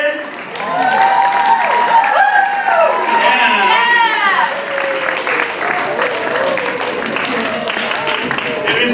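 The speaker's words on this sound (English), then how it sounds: "Give yourself a hand, everybody." Audience clapping for the cast after a school stage play of The Legend of Sleepy Hollow, a steady wash of many hands under loud cheering and shouted voices, sustained and close throughout.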